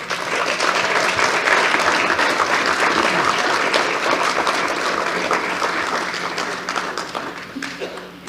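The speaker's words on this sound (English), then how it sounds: "You may applaud." An audience in a Baptist fellowship gathering clapping for panelists, sustained crowd applause that swells, then slowly thins and fades toward the end.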